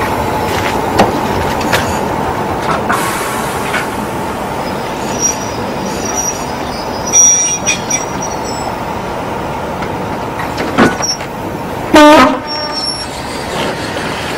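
A train rolls past close by a railway signal with a steady rumble, its wheels squealing and screeching in high-pitched bursts toward the end.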